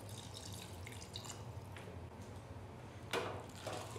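Water trickles and splashes into a pressure cooker of mashed pav bhaji vegetables, a soft steady pour with a brief louder splash near the end.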